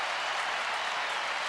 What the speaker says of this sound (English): the Melbourne fans below us were cheering even before the ball got to within, say, 5 metres